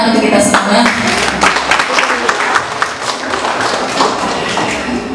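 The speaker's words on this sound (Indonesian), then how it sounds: "Tepuk tangan untuk kita semua." An audience at an Indonesian Ramadan charity gathering at a hotel and coffee resto claps together in a dense burst of applause, close and continuous for several seconds before thinning out.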